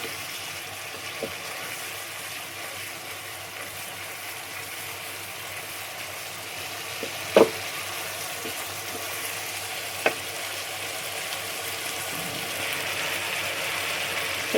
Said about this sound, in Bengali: এই যে চরবর চরবর করে ফুটছে,